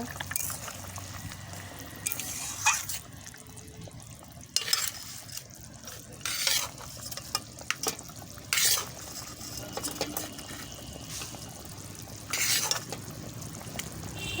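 Eggplant pieces go into a bubbling fish curry and are stirred, with soft intermittent scrapes and clacks of a spoon against the pot over a low simmer, quiet and close.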